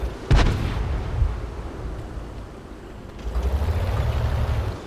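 A Pz.Sfl IVC self-propelled gun in World of Tanks fires one loud, booming shot early on, and the blast rolls off into a rumbling tail over low battlefield ambience.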